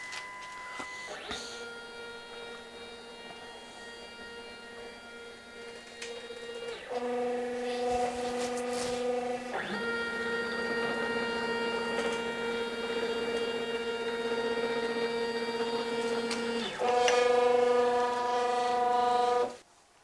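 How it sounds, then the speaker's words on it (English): A Masso-controlled CNC machine homing its axes: stepper motors whine in sustained tones that change pitch in distinct stages, each ending with a click, running steadily before stopping abruptly. "click on the home key until it changes to start, release it, and the machine will start homing"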